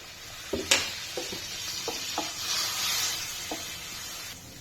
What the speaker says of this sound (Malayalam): കുറച്ചൊരു വിനാഗിരി ഒഴിച്ചു കൊടുക്കുന്നുണ്ട്